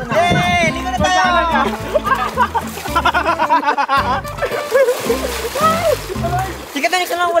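People splash about while bathing in a fast-flowing river, with water sloshing beneath loud, overlapping shouts and laughter that run through the whole stretch.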